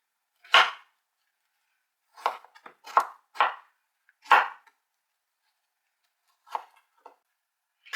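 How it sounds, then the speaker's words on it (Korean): A knife finely chops persimmon for kimchi seasoning in short, crisp strikes, about eight in all, spaced irregularly with quiet gaps between them, heard close and fairly soft with no talking. "잘게 썰어줍니다."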